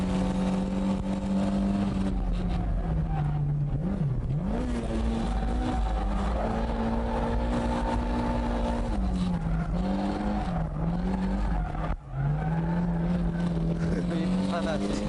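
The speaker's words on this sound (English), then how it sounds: "I'm literally flooring it the entire way." A drift car's engine runs at full throttle in a sustained, loud, steady roar with wavering pitch as the revs shift, while the tires skid continuously beneath it; the engine noise dominates throughout.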